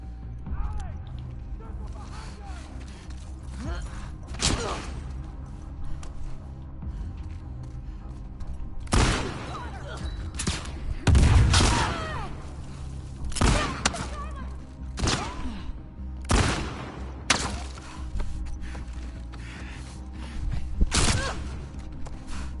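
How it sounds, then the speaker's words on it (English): Game gunfire from The Last of Us Part II: a string of sharp, loud shots at irregular intervals, some in quick pairs, over a dull ambient background with occasional heavier thumps. "What the fuck is she shooting me from?"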